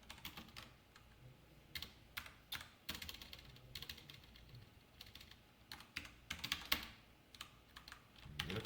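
Fingers type steadily on a computer keyboard, a soft, continuous patter of key clicks in quick irregular bursts, faint but close, with no voice over it.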